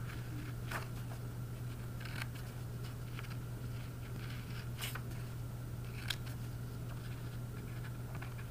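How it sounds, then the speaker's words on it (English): Scissors cutting a sheet of paper for a Palm Sunday craft, with faint, intermittent snips over a steady low hum in a quiet room. "I've cut my sheet of paper"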